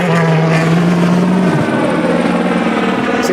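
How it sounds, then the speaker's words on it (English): Helicopter tracking a World Rally Championship car on a live stage, passing by with a steady rotor drone and engine hum that shifts in pitch partway through, continuous and fairly loud. "you see the heli go past"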